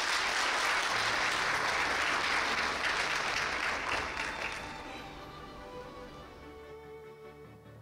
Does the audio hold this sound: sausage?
no